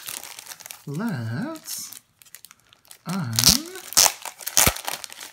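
Crisp plastic wrap crinkling and crackling in bursts as it is handled and pulled off, with a voice speaking over parts of it.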